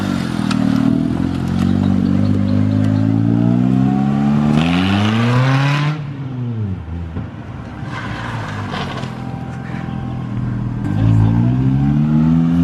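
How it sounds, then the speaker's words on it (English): A car engine is rev-banged hard and repeatedly, pitch climbing and dropping in loud surges with rattling bursts between. "I saw you like rev banging it over here."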